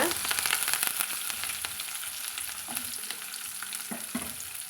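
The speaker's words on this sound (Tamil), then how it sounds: "சேர்த்துட்டு வெங்காயம் கருவேப்பிலை எல்லாத்தையுமே நம்ம சேர்த்துக்கலாங்க" Green chillies, onion and curry leaves frying in hot oil for a beetroot poriyal, with a dense, loud, continuous crackling sizzle and occasional stirring scrapes, no speech.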